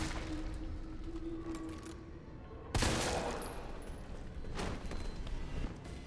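Gunfire in Resident Evil 3 Remake, a sharp blast followed by rolling bursts of shots over a low rumbling game background, no voices.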